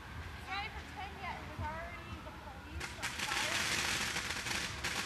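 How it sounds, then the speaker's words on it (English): Fireworks on the 4th of July in Corvallis crackle and pop in a dense burst, faint and somewhat distant, with people talking over them at first before the crackling rattle swells. "it's the 4th of July and people are setting off fireworks"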